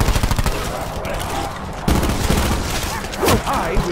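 Rapid automatic gunfire from zombie combat in Call of Duty Black Ops 4, dense bursts of loud shots layered over game effects with voices mixed in.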